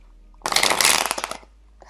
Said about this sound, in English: when I shuffle cards out